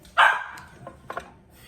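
A couple of house dogs bark sharply indoors, one loud yap up close followed by a few fainter, shorter barks trailing off in a quiet room.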